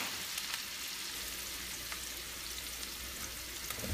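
Garlic hitting a pan of frying onions and peppers, producing a steady, dense crackling sizzle that stays even and close throughout, with a few soft pops on top.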